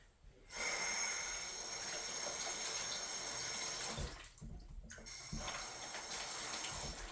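A Walmart knife rinsed under a running tap, a steady close rush of water with brief breaks as the blade moves through the stream.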